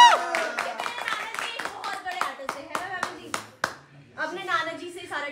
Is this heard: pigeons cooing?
no